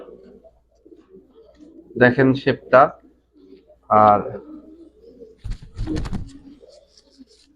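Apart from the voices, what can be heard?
club racing pigeons cooing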